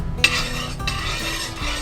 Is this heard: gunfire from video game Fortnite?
no